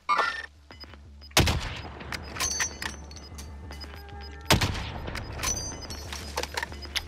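Gunfire in the battle-royale game Call of Duty Warzone: two sharp, loud shot bursts ring out, each followed by a scattered rattle of further shots and clatter, over a steady low game rumble.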